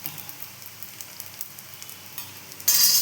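Jalebi made from leftover dosa batter frying in hot oil, a soft continuous sizzle with small crackling pops, ending in a louder burst of hiss.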